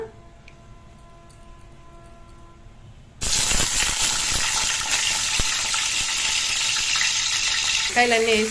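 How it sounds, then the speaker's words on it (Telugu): Sliced eggplants drop into hot oil in a pan, setting off a sudden loud, steady sizzle and crackle that continues close by after a quieter lead-in with faint background voices. "ఆయిల్ వేసామండి ప్యాన్లో. మనం వంకాయలు వేయించుకుందాం."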